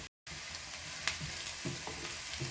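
Chopped onion and curry leaves fry steadily in a pan with a constant close sizzle, broken by a few soft stirring scrapes and light knocks.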